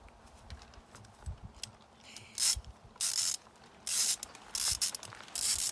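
A ratchet loosening a bolt on a Pitster Pro XTR 250 pit bike during a teardown, with several loud, close bursts of rapid clicking separated by brief pauses and faint handling noises.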